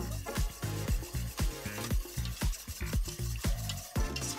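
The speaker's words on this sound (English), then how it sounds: "and we whisk it all together." A spice marinade of onion powder, chili powder and black pepper for vegan jerky is whisked in a bowl, a quick run of sharp, rhythmic scraping strokes, close and steady with no talking.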